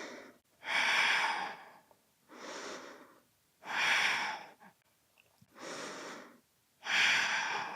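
Slow yoga breathing during a strong flow session: five long breaths in and out, each a soft airy rush separated by quiet gaps, close to the microphone and without talk.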